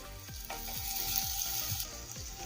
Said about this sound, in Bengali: তেল গরম হয়ে গিয়েছে, তেলের মধ্যে এখন দেবো হিং।